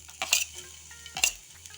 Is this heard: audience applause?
no